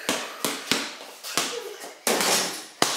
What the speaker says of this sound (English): Do some dribbling drills, Tiger.